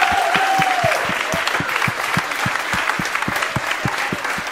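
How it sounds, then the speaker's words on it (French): A podcast audience applauds the children, a full, sustained round of clapping with a steady, evenly spaced clap pulsing through it, running throughout. "il me semble que je ne vous ai pas entendu applaudir ces enfants"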